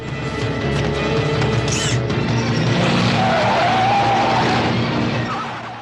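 Car tires skidding and squealing under sudden hard braking in a horror film, a loud continuous screech over engine rumble lasting several seconds before fading.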